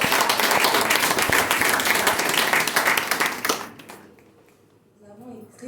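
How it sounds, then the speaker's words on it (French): Audience applause at a political gathering in Togo, dense loud clapping sustained for several seconds before it fades away quickly into near quiet. "On l'applaudit, c'est la première."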